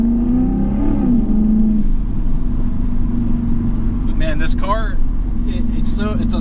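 A 2008 Lexus IS F engine holds a steady, loud drone that climbs slightly in pitch early on, then stays level while a voice speaks faintly over it near the end.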